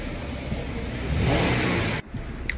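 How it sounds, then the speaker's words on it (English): A Jeep Wrangler engine, repaired after a cylinder 2 injector open circuit, revs hard in a snap acceleration: a loud, close, steady roar swells to a peak, then drops off abruptly near the end. "Even I did the snap acceleration without hesitation nor"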